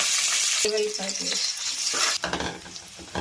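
Onions, curry leaves and garam masala fry in ghee and oil for vegetable biryani, a loud sizzle broken by a few sharp stirring scrapes and clinks of a utensil against the pan.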